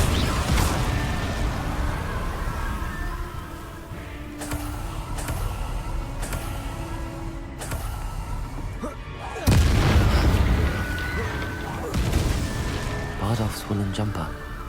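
Glacius and Confringo spells cast in combat in the Hogwarts Legacy video game, a string of sharp booming blasts and bursts, with one especially heavy hit midway, over continuous game music and effects.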